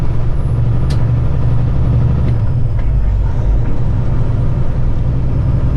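Heavily loaded Kenworth truck engine droning loud and steady from inside the cab, a deep continuous rumble with no pauses.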